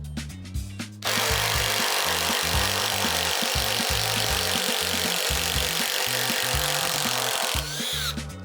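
A Stanley 12V MAX impact driver whirs steadily for several seconds while a screw bites into wood, with a rhythmic pulsing hammer under the whine, starting and stopping abruptly.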